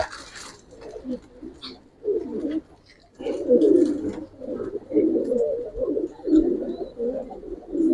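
Pigeons coo in repeated low throaty bursts, close and fairly loud, among coloured and Giribaz pigeons at a breeder's loft, with brief chirps at the start and a gap before the cooing resumes steadily.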